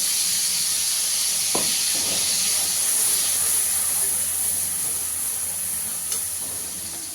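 An almond, yogurt and green chili paste cooks in a pan over low gas, giving a steady soft hiss and sizzle with a couple of faint scraping stirs, heard up close.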